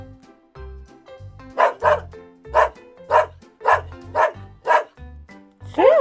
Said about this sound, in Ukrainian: голос собаки.